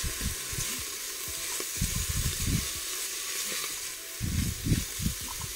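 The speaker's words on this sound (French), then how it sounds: "fait bien revenir les lentilles" Lentils sauté in a pot with shallots and leek for a lentil soup, a continuous close sizzle and hiss broken by repeated clattering scrapes of stirring, with no voices.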